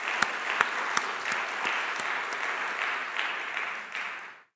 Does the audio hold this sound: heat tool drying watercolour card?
no